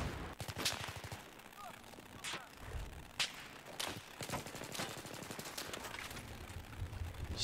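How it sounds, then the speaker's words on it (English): Fully automatic gunfire in Battlefield 3 on the Noshahr Canals map during squad deathmatch, rattling in quick bursts with sharp individual shots, moderately loud and near, amid other game noise. "Oh, I should go fully auto for this."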